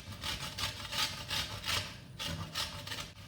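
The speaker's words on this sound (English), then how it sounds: "grate just a little bit of orange zest onto that" Orange zest scraped on a grater over chocolate chips in a cannoli filling, a steady rhythmic rasping of repeated strokes, close and fairly loud with no talking.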